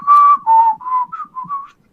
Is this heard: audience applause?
no